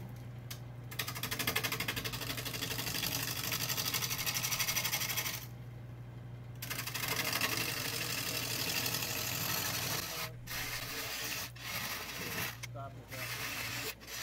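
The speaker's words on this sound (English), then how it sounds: "Using a half-inch bowl gouge, probably not the best tool for the job." Wood lathe spinning a pine bowl blank while a half-inch bowl gouge cuts it, giving a steady loud motor hum with scraping cut noise that drops out briefly a few times.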